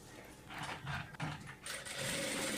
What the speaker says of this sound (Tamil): இப்போ நம்ம இதில் தையல் போட போகிறோம்.